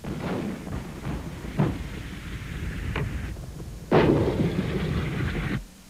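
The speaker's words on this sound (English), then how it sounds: "howitzers of the US 1st Marines opened up," US Marine howitzers fire artillery shells during the 1991 Gulf War, heard as several muffled booms at a distance, the last one heavier and followed by a rumbling tail over a steady background noise.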